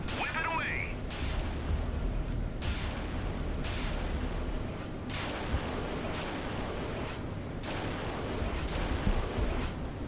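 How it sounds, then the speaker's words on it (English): Torpedoes launch from a naval launcher built of four separate blocks in the Sea Power missile-age naval combat game, heard as five loud, evenly spaced whooshing bursts over a steady background rumble. "Fire off the torpedoes."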